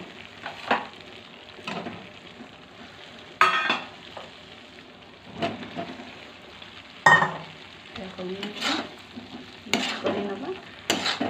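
Potatoes and cauliflower fry in a pan for a cauliflower and pea curry, with a low steady sizzle broken by repeated loud scraping stirs of a spatula against the pan at an uneven rhythm, close up and without talk.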